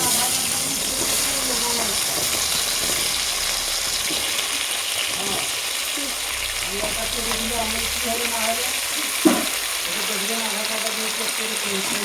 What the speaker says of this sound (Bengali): ওই তেলেই আমি এই কচুগুলাকেও ভেজে নেব।